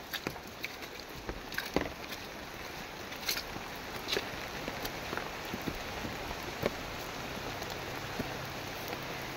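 Steady rain falls on a rural farm, a dense even hiss broken by scattered sharp drop ticks and taps, heard alone without any voices.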